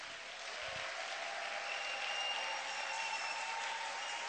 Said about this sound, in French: Nous acclamons bien le Seigneur